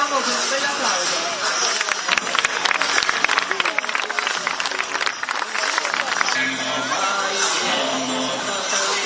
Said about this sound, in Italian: quindi vi salutiamo con un bel applauso.